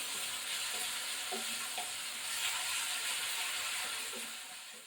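Onion, with tomato and salt, fries steadily in a pan, giving a continuous close sizzle that hisses evenly and fades slightly at the end.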